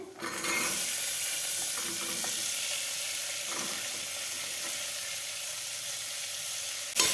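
Beans, carrot, curry leaves, fenugreek and spinach greens sauté in a hot pan for a vegetable bisi bele bath, giving a steady, close hiss and sizzle that holds throughout.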